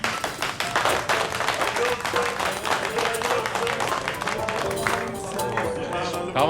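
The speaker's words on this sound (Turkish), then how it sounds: "Alkış." A small group claps and cheers in celebration, a busy, continuous patter of hands that holds steady throughout, with voices and laughter mixed in underneath.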